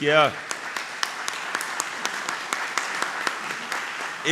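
Applause from an audience for Dr. Paulo Gonet, a Brazilian public prosecutor, at a formal legal gathering: steady, fairly soft clapping with a few sharper claps, a voice speaking briefly at the start and again at the very end.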